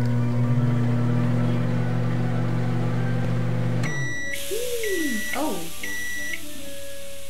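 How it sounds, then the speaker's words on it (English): A microwave oven in the video game Jazzpunk hums steadily, then stops and gives a series of repeated electronic beeps, with a few swooping tones in between. "Have a microwave. Woo, dinner."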